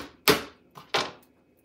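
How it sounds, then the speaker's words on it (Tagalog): Onion and garlic sliced with a knife on a board while cooking at home, two sharp chopping strikes about 0.7 seconds apart, each with a lighter tap after it, close and clear with no talk. "For slicing the onion and garlic."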